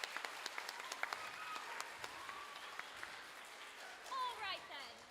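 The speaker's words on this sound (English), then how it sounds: "Let's give him a round of applause" Faint, distant round of applause for a performer at a children's Little Mermaid show, scattered claps over a noisy background with voices and squeaky sounds near the end.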